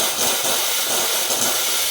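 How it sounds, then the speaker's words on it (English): A steam wand on a Barista Via Venezia 6-bar espresso maker purges with a steady, loud, close hiss of steam, nothing else heard. "I purge it a little bit, so we got nothing but steam coming out of there."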